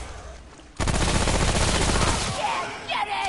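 Rapid gunfire from the video game Remnant: From the Ashes, a dense burst of shots starting abruptly and running loud and continuous for a few seconds before easing off.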